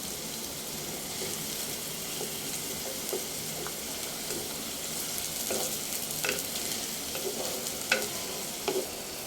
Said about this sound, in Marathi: आता आपण ह्याला हलकं गोल्डन होईस्तोवर फ्राय करून घेऊया